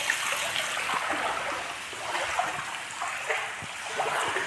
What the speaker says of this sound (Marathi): हे पाणी इथून असं पडत चाललं आहे आतमध्ये